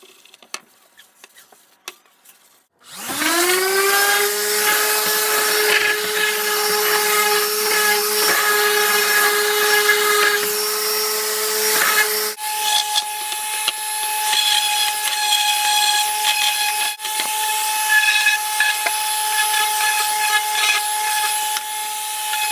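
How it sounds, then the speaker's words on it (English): Power sander with a 220 disc smoothing primed kitchen cabinets, starting after a brief quiet moment and then running steadily and loudly as a continuous whine with abrasive grinding, a slight pitch change midway, with no talking. "With this sander, you need to be super careful not to take too much off the edges"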